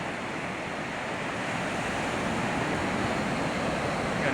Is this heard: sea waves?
yes